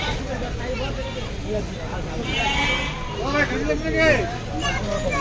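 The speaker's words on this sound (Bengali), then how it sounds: "এখানে ভেড়া" Sheep bleat repeatedly at a crowded Qurbani cattle market in Ashulia, several quavering calls layered over a constant hubbub of voices and close conversation.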